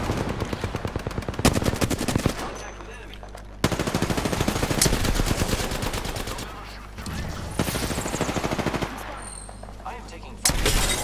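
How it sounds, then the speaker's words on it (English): Rapid automatic gunfire in the Apex Legends video game, loud bursts of shots broken by short pauses, with a player's voice talking over parts of the firing. "Yeah, I'm getting shot."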